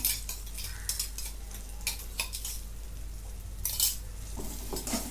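Ginger and green chilli being sautéed in a pan for samosa filling, with a spatula scraping and tapping the pan in irregular strokes over a faint steady sizzle, close up with no one speaking.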